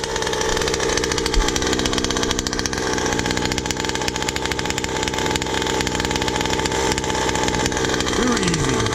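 A Rovan Baja 5B RC car with a 45cc gas engine runs just after its first start, buzzing loudly and steadily up close with some revving.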